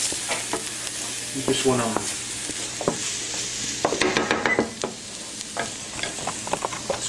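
Small keftedes meatballs fry in a pan and are stirred, giving a steady sizzle broken by scraping and clinking, with a voice talking briefly over it.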